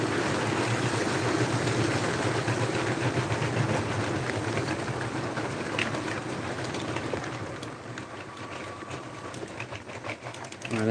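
Model railway locomotive running on a home layout, a steady mechanical whir and rumble with rail clatter that continues throughout at moderate distance, easing slightly toward the end.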